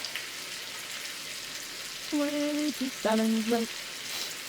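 Onions frying in a pan alongside cooking lentils give a soft, even sizzle close by, with a brief tonal voice-like sound over it partway through.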